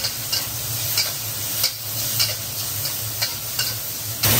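Squid is stir-fried with ginger, chili and garlic in a home kitchen: a steady sizzle runs under sharp spatula scrapes every half second or so, close and alone.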